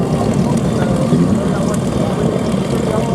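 Propeller engines of a B-25 bomber drone steadily in flight at the 2019 New York Airshow, a loud, dense cabin roar that continues without a break throughout.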